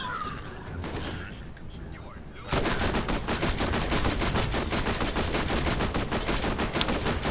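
A powerful fire weapon shooting in Borderlands, a sustained rapid stream of loud, evenly spaced shots that starts abruptly and runs on without pause, after a quieter stretch with a voice.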